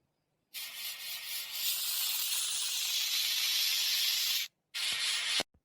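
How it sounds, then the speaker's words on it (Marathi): Loud steady hiss of a pressure cooker letting off steam for about four seconds, a brief break, then another short burst. "कुकरची शिट्टी होऊन राहिली"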